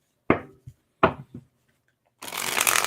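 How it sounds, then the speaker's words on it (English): Tarot cards are shuffled near at hand in a few short riffling bursts, two sharp flurries with small taps after each, then a longer, denser continuous shuffle at the end, with no talking. "Let me shuffle that."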